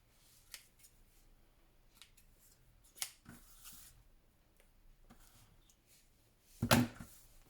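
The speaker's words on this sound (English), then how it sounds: "we'll take our scissors and we'll just pull the last of these threads off" Quiet, scattered snips of scissors trimming threads from a padded patchwork journal cover, a few soft cuts spaced apart, ending with a sharper, louder snip near the end.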